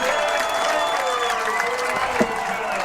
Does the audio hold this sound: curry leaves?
no